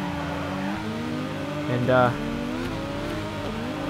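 A Toyota Supra engine in the drifting game Torque Drift revs steadily, with a brief rising surge and tire noise near the middle, while someone talks over it throughout.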